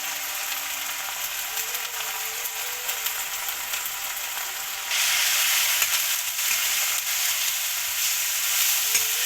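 Turmeric, garam masala, chili powder and salt fry in a pan for potato curry, giving a continuous bright sizzle that grows louder partway through, with faint scraping of a spoon stirring.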